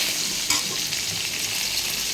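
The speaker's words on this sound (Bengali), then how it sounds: "আলুটা দিয়ে দিয়েছি এবার দিকে ভাজা হোক" Potatoes sizzling in hot spiced oil after tempering, a loud continuous frying hiss with a brief stir or clatter near the start.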